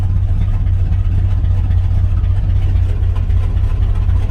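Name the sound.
Chevy 1 ton tow truck engine idling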